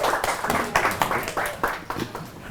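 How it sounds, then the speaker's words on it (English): A small audience claps in uneven, scattered bursts at a First Friday interview event in Detroit honoring a Department of Public Works guest. The clapping is moderately loud and fairly near, with no speech over it. "Y'all give them a round of applause."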